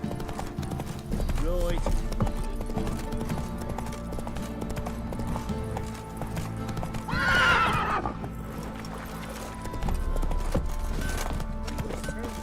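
Roach the horse gallops in The Witcher 3 with rapid rhythmic hoofbeats over game music, then a loud whinny midway before the galloping resumes; a voice speaks briefly.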